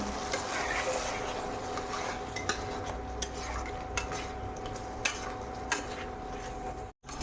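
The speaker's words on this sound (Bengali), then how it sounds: "কাজু বাদামটাকে ভালো করে মিক্স করে নেব" A spoon scrapes and stirs through poppy seed, chili, garlic and cashew paste with fried potatoes and tomato in a pan, a steady close scraping with a few sharper metallic clicks against the pan.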